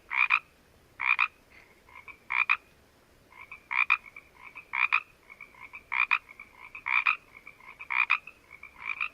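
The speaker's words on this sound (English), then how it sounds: "It's the classic frog sound." A Pacific tree frog gives a series of about ten sharp, two-part croaks at an uneven rhythm, close and clear against a quiet background.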